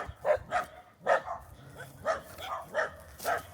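A neighbour's dog barks repeatedly at a rural period property with land, giving a steady series of about nine medium-distance woofs under a light outdoor background.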